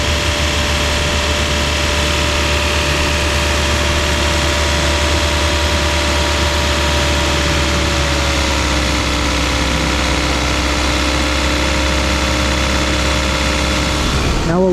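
A car engine idles steadily in an auto repair shop, a continuous low drone with a constant hum, near and loud throughout, its pitch shifting slightly as the idle drops.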